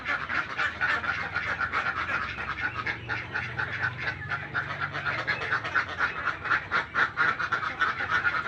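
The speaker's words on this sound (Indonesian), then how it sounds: "Kalau ini bebek jenis soloan ini udah mulai bertelur ini." A flock of Soloan ducks on a poultry farm, laying hens, quacking continuously in a dense overlapping chorus, close and loud, with no pauses throughout.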